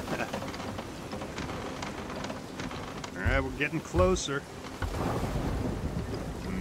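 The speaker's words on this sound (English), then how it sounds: "that crash of the waves there sounds so great. That or it was thunder" A storm rages at sea in the pirate game Sea of Thieves, with steady rain and rumbling, plus a couple of heavy crashes of waves or thunder bursting out midway under ongoing voices.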